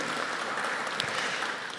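Applause from an audience at an international forum on tax reform proposals for SUNAT, greeting a speaker; a dense, steady wash of clapping held throughout at moderate, slightly distant level, easing off at the end.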